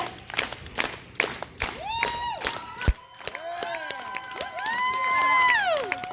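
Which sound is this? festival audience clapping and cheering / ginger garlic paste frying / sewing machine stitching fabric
festival audience clapping and cheering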